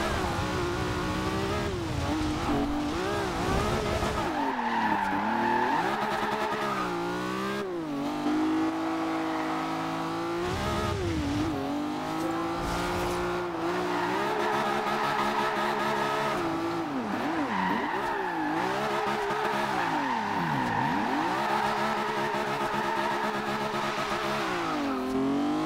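A 725 HP 1969 Toyota 2000GT racing in Forza Horizon 2, its engine loud and continuous, revving up and down through repeated gear shifts with brief throttle lifts, close and steady throughout with no talking.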